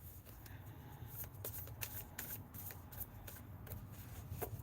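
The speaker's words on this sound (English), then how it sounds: "I'm just shuffling up some cards" Faint, soft riffling and snapping of a deck of playing cards being shuffled repeatedly up close, against a low background hum.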